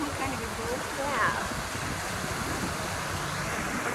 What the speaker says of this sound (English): Look at all the water coming out down there.